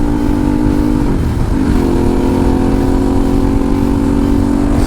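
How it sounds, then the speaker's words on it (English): A Harley-Davidson motorcycle fitted with a new exhaust pipe gives a loud, steady rumble close by, with one brief dip and rise in pitch partway through, and no voices. "Harley-Davidson"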